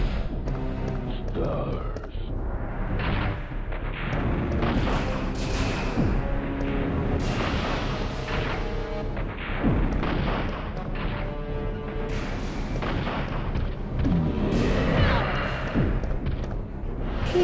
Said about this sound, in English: First, we have to make him waste his rockets.